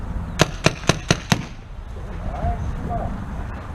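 Five sharp paintball gun shots crack out in a quick, even burst on an outdoor field, followed by quieter background noise and faint voices.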